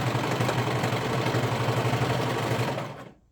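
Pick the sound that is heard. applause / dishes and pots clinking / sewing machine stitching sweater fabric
sewing machine stitching sweater fabric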